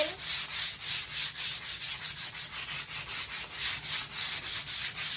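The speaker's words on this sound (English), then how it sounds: "it's just a little scuff sanding" Rhythmic back-and-forth scuff sanding strokes rasp with the grain across a finished wood surface, close and steady, about two strokes per second with no talking.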